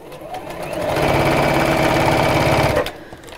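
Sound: sewing machine stitching along a stitch line

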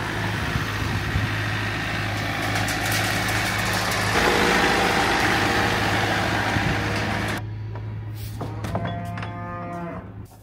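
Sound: tractor engine running on a farm

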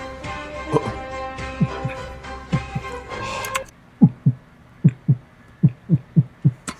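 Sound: heartbeat sound

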